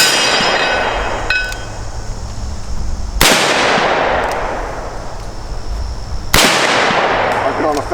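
A Smith and Wesson .455 Mk 2 revolver fires outdoors, two loud sharp shots a few seconds apart, each followed by a long echoing decay.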